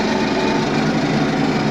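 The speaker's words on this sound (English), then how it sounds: "let the combine warm up a little bit" A combine harvester engine warms up before the first corn harvest of the year on a farm, giving a loud, steady, close broadband drone that holds unchanged throughout with no talk.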